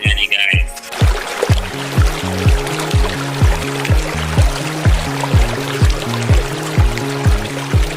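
Filtered water pours out steadily from a home water filter, a continuous loud rush over a low repeating rhythmic pulse.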